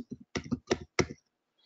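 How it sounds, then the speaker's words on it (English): Keys on a computer keyboard are typed in a quick burst of about five or six close, crisp clicks over roughly a second, then stop into quiet. "If I type in start again"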